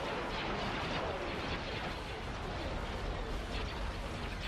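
Heavy starship weapons fire pounds a Star Destroyer in the space battle game Star Wars: Empire at War, a dense, continuous roar of overlapping blasts and explosions with no break.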